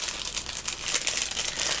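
Plastic packaging crinkled close up while items are put back into it, a run of sharp, irregular rustling bursts with no talk.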